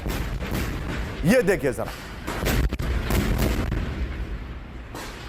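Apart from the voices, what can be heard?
explosion after an Israeli strike, news video footage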